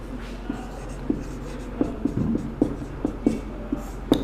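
Chalk tapping and scraping on a blackboard during a Hindi grammar lesson, a series of sharp strokes and taps at an irregular rhythm, close and fairly loud, with no talk over them.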